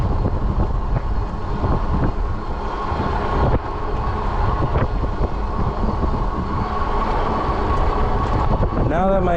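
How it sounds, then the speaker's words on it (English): Wind buffets the microphone as an electric 20-inch folding fat-tire bike rides outdoors along a park path, a loud continuous rushing roar with a brief dip partway through. "There's the wind."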